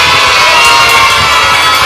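A kindergarten children's cheering squad shouts and cheers loudly and continuously at a school event, many young voices blending into a dense, unbroken roar for the full stretch.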